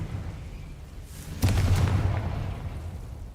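Confringo fire spell in Hogwarts Legacy going off as a single sudden loud blast with a booming, crackling tail that fades over a couple of seconds, no talk.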